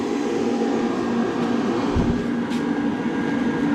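A loud, steady fan roar from a YesWelder Cut 65DS plasma cutter switched on, a constant broadband whoosh with no breaks.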